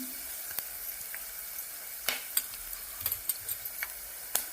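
Dried curry leaves sizzle in hot oil for upma, a faint crackle punctuated by scattered sharp pops and light stirring clicks.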